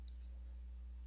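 Two quick, faint computer mouse clicks land right at the start, followed by a low steady hum with nothing else.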